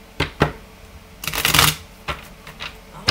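A deck of tarot cards is shuffled by hand in quick riffling bursts, a few short flicks followed by a longer, louder riffle and more brief snaps, close and clear.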